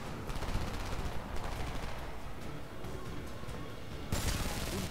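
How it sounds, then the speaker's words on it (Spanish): Rapid bursts of submachine gun fire in the shooter Homefront, crackling volleys repeating through most of the stretch with a louder final burst near the end. "Un subfusil con mirilla COG y disparo desde el quinto cojón y los mato."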